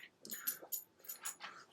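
A half English Bulldog, half Chocolate Lab mix dog makes a few short whimpering, yipping sounds in a quiet room, close and soft, in brief bursts.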